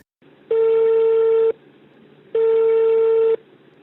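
An outgoing telephone call rings back in two long, loud steady tones about a second each, separated by a pause, heard close over a faint line hiss.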